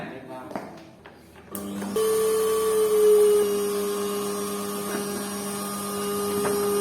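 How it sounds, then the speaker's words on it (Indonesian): A vacuum cleaner runs steadily, cleaning dust out of a computer power supply, starting up after a few faint knocks and then droning on as a continuous close whine with a constant tone. "Dibersihkan pakai vacuum cleaner itu diambil silakan vacuum cleanernya."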